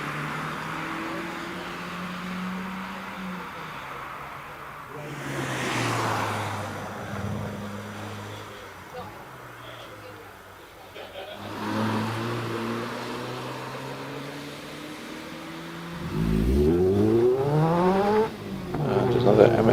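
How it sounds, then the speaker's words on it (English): A Mazda MX-5 rally car launches off the line at a night hillclimb, engine revving in rising sweeps at a distance, then a close, loud climb through the gears near the end, with commentary talking over it. "And another MX-5 makes its way off the line."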